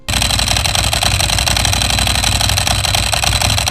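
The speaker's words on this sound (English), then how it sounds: "Let's listen to a dry clutch really quick." A Ducati motorcycle engine runs with its dry clutch rattling, a loud, steady, close mechanical clatter over the idling engine for the whole stretch.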